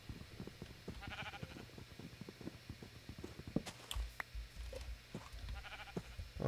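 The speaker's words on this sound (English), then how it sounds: "Oh, hello, Mr. Sheep." Several bleats from sheep in the video game Minecraft sound faintly over soft, repeated tapping and clicking, with no one talking.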